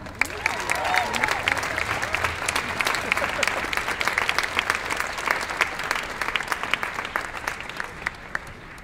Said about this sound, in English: give a big round of applause for Matt Young.